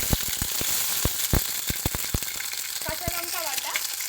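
Ginger spice paste fries in a pan with a steady hiss, broken by repeated clicks and scraping stirring knocks, fairly close, with a voice speaking softly underneath.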